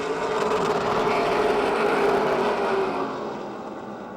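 Stock cars race on a speedway, a dense, roaring engine drone that swells and then eases slightly toward the end, heard from a distance without talk.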